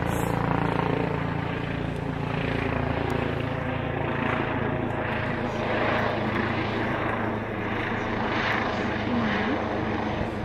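A propeller airplane drones steadily overhead, loud and continuous throughout, with a broad rumbling engine tone and no voices.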